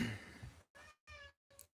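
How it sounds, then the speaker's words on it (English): A cat meows indoors, three separate short meows spaced by pauses, fairly faint, following a brief stretch of low background noise. "And there's a cat."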